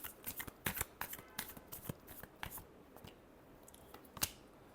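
Tarot cards are shuffled by hand in a run of quick papery flicks and snaps, dense at first and then sparser, close but fairly soft, with no voice over them.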